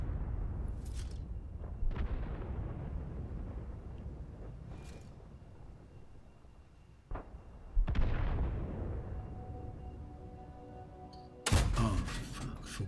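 Tank cannon shots in a video game, including a rocket tank, boom at irregular intervals, several heavy blasts with long decaying tails, and a sharp burst near the end.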